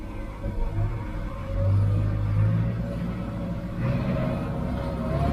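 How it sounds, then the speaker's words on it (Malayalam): A vehicle climbs a freshly cut, muddy earth road, its low engine rumble steady and fairly close, swelling slightly midway, with no talk over it. "വണ്ടി കയറി പോകുന്നുണ്ട് കേട്ടോ."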